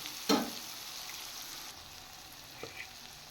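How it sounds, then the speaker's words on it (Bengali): Fried fish dropped into hot spice oil in a pan, giving a sharp sizzle burst at the start that settles into a steady, moderately loud hiss with a faint clink near the end. "এবার আমি ভেজে রাখা মাছগুলো দিয়ে দিলাম"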